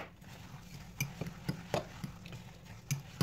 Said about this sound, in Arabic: نخلط غير بالفورشيط